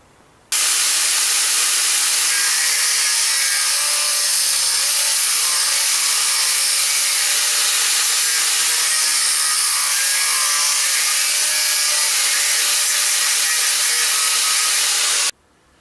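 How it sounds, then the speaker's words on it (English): A grinder with a 1mm cutting disc grinds armour steel held in a vise, giving a loud, steady, harsh hiss that runs unbroken for about fifteen seconds before cutting off abruptly. "I'm going to grind that out now using a 1mm slicking disc"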